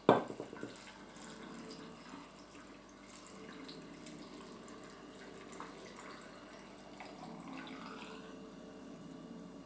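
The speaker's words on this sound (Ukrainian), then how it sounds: "І доливаю водичку" Water is poured from a tap into a jar packed with tomatoes for pickling: a soft, continuous splashing trickle, faint and steady, with no talk.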